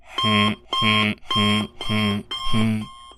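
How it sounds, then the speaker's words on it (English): An alarm clock rings in five evenly spaced electronic bursts, each a bright beeping chime with brief gaps between, loud and close. "rhythmic sound of an alarm clock, of your alarm clock."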